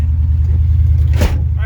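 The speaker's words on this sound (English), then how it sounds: "Let's get in this thing, go for a ride." An old International pickup truck rumbles with a steady low engine drone, a brief louder swell near the end as it gets going, under a voice talking.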